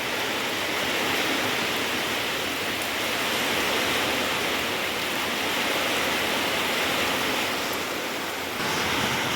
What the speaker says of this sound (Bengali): দেখো পুকুরের জলে দেখো হাওয়া হচ্ছে আর বৃষ্টি পড়ছে।